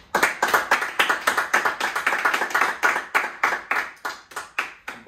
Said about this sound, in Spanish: Y un aplauso también.